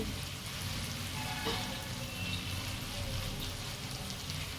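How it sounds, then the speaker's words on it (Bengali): Spices sizzle steadily in a hot pan for sago khichuri, a dense, even crackle of frying that holds at a moderate level from start to finish with no talking. "দেখো মশলাটা বেশ ভাজা ভাজা হয়ে গেছে"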